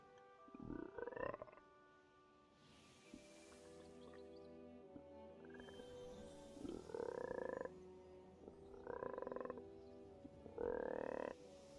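A person imitating a toad with their voice, producing several drawn-out croaking calls spaced a few seconds apart, fairly loud and close, with no other talk.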